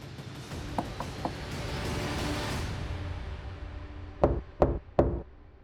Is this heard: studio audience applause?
no